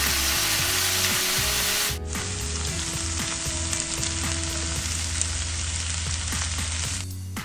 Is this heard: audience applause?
no